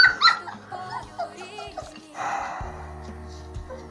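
Six small puppies whimper and yip in short, high squeaks and whines, close by, with some shuffling noise in between.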